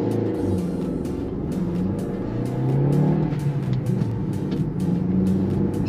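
A 2024 Maruti Suzuki Swift Dzire running on CNG revs up from a start in first gear, its drone rising in pitch as it picks up speed, heard from inside with a steady rumble.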